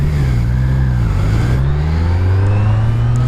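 Kawasaki Z900 motorcycle engine, restricted for A2 licence, running close and loud with a steady low drone that climbs in pitch as it accelerates through the gears, with no talking.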